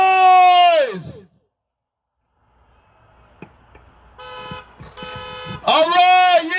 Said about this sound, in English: clap your hands, shout, bang your pots and pans, honk your horns, make some